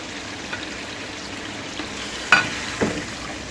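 Beef karahi frying in a pan as ginger and green chillies are added, a steady low sizzle with a couple of brief clattering stirs and drops near the end, close and moderately loud.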